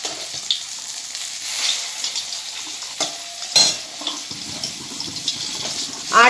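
Flat beans and bottle gourd peel cooking in a dry pan without oil, with sporadic close scrapes and rattles of stirring over a low hiss and a few louder bursts.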